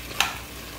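Liver cooks in a frying pan and is stirred once with a quick scrape, followed by a soft, steady sizzle at close range with no talking.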